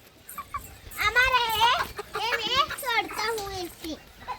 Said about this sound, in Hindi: ये सभी मुर्गियों को बाहर भगा रहा है।